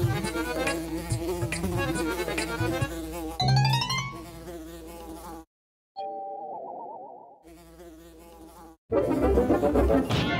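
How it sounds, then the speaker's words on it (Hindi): Cartoon mosquitoes buzzing, a sustained whining insect drone with sliding pitch and cartoon sound effects, loud and close, cutting briefly to silence midway. "आज मच्छर कुछ ज्यादा ही लग रहे हैं।"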